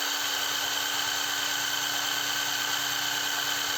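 A ONEVAN 2800 Nm cordless impact wrench spins freely with a steady, loud, high-pitched whine that holds evenly for about four seconds without a break.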